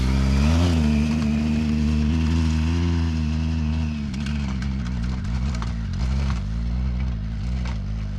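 An adventure motorcycle engine climbing a dirt hill revs hard and loud, holding a strong steady drone that wavers as the throttle rises and falls, with gravel crunching underneath and no voices.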